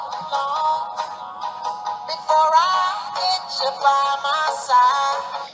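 A song preview plays from a music app on a Samsung Galaxy phone running Jelly Bean, a bright melodic track with steady harmonic lines and no talking over it.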